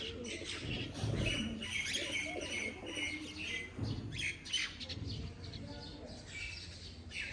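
Breeder pigeons in a home loft coo and chirp in a busy, overlapping chorus with a few squawks, moderately close, with faint background voices now and then.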